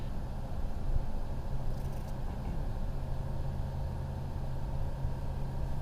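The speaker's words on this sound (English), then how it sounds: "And the Rotax just sounds so nice" A Rotax 912 iS engine on a STOL CH 750 aircraft holds a smooth, steady low drone with wind noise over it. The sound is heard from inside the cockpit and stays constant with no talking.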